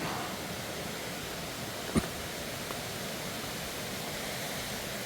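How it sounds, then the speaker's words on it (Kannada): Waterfall near Sakleshpur, also called Magajalli Falls, gives a steady broadband rushing roar, fairly close and unbroken, with one brief knock partway through. "ಇದು ಮಗಜಳ್ಳಿ ಫಾಲ್ಸ್ ಅಂತ ಕೂಡ ಕರೀತಾರಂತೆ"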